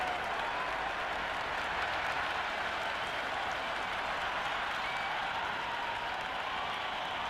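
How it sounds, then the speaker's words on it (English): At a Big Bash League cricket match between Perth Scorchers and Sydney Sixers, a large crowd claps and cheers after a four, producing a steady, dense roar of applause that stays loud and continuous throughout. "The crowd are really getting quite raucous. It's going to be difficult to focus down in the middle with this amount of noise."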